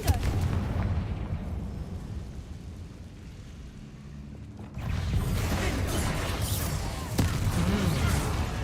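Confringo fire-blast spell in the game Hogwarts Legacy, a booming burst that cuts in after a quieter stretch and carries into a rumbling, crackling tail with more impacts.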